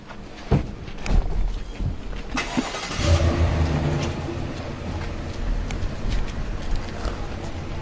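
A Chevrolet Tahoe SUV pulls away from a residential property, its engine rising and fading over several seconds amid outdoor background noise.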